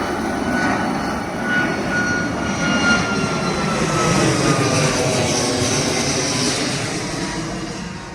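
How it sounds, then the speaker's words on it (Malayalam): An airplane passes overhead, a loud, steady engine roar that swells slightly mid-way and holds for several seconds with no talk. "വിമാനം പോകുന്നുണ്ടെങ്കിൽ"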